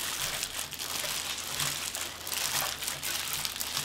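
Close, soft crinkling and squishing as dried vegetables such as chwinamul, siraegi and dried pumpkin are hand-mixed with seasoning and perilla oil, a continuous moist rustle without talk.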